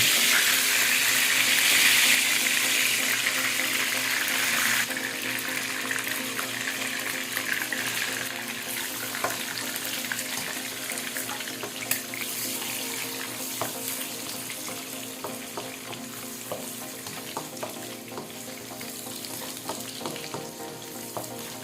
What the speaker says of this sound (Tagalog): Maglalagay tayo ng cooking oil. Lalagay tayo ng egg.